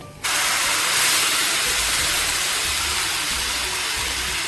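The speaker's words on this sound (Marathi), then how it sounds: "तर यानंतर आपण आपला बॉइल्ड पास्ता यामध्ये ऍड करणार आहोत." Boiled pasta dropped into a hot pan of frying ginger-garlic paste and spices sets off a sudden loud, sustained sizzle that bursts in and then hisses steadily, close and bright, with no talking.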